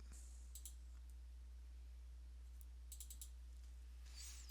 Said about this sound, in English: Remember to double click.